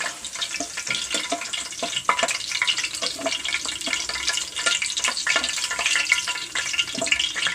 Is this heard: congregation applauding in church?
no